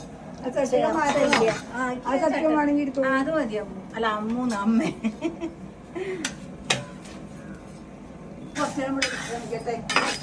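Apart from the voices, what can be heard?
stirring roasting urad dal with a spatula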